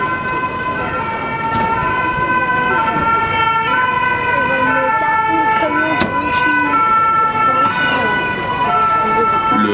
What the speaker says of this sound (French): Le troisième véhicule à se présenter sur les lieux est le fourgon pompe-pompe